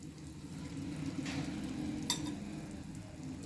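Wild monsoon vegetable (kartule, spiny gourd) cooking in a pan on a low flame, giving a soft, steady, faint sizzle with a couple of light scrapes, close and without any voices.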